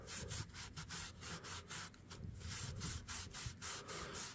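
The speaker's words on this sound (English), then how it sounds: "take this dry rag here, and we'll just wipe it off just a little bit. Rub it in there." A dry rag rubbed over a fixed-blade camp knife's handle, making soft, close, rhythmic swishing strokes repeated in quick succession.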